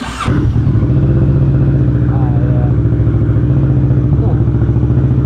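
A 2020 Kawasaki Ninja 650 sport motorcycle engine fires up and settles into a loud, steady, throaty exhaust rumble with a deep pulsing idle, close by.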